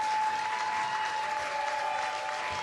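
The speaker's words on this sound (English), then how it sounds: "Well-deserved applause for a kid that showed ultimate toughness." Continuous applause from Little League baseball fans at a Richmond, TX versus Boerne, TX game, saluting a pitcher; a thick, even wash of clapping from a crowd, heard alone without commentary.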